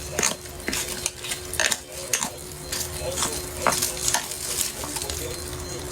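Ingredients for dim sum being whisked in a bowl, with rapid, sharp clinks and scrapes of a utensil against the bowl in an irregular rhythm, heard close up.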